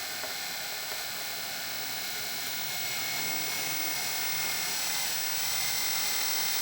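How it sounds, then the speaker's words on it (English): A power drill boring quarter-inch holes gives a steady, close, high-pitched whine that holds without pause and grows slightly louder toward the end. "I'm going to be drilling 3 1/4-inch holes here."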